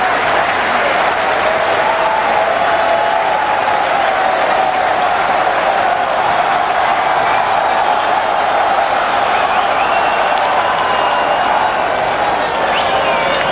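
Large crowd at a 2009 England versus Australia one-day international cricket match applauding and cheering steadily throughout, a dense continuous roar of clapping with rising shouts, broad and sustained at a distance.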